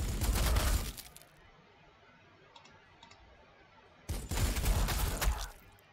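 A frag grenade goes off in Warhammer 40,000: Sanctus Reach, giving a loud, crackling blast. A second heavy burst follows a few seconds later after a quieter lull with faint clicks.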